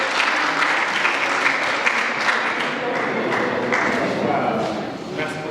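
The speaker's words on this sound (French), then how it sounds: "Il y a des applaudissements dans tous les moments." Crowd applause at a film festival in Diourbel, Senegal, a dense, sustained clapping that holds steady for several seconds and eases slightly toward the end, with voices mingled in the background.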